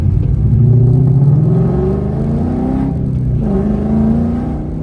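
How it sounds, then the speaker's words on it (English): An S550 Ford Mustang engine idles and revs with a deep, loud, close-up exhaust rumble that rises and falls steadily, with no talking. "I enjoy giving you guys a little bit of an exhaust note or something."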